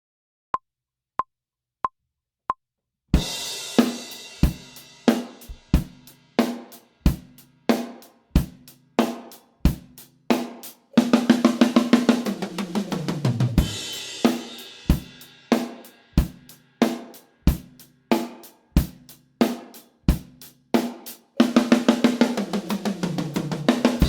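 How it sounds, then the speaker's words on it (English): A drum groove plays over several bars after four clicked count-in beats, with a steady kick-and-snare pattern and busier fills in the later bars. "you're going to play groove. And on the fourth measure, you're going to play a fill"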